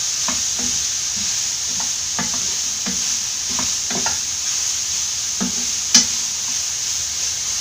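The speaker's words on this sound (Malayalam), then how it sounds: "ഇതിലേക്ക് മഞ്ഞൾപ്പൊടി, ഉപ്പ് ആവശ്യത്തിന് ചേർത്ത് കൊടുക്കാം. നന്നായിട്ട് മിക്സ് ചെയ്യാം." A spoon scrapes and stirs grated papaya with turmeric powder and salt in a pan, steady irregular scraping strokes over a soft continuous sizzle, close and fairly loud with no voices.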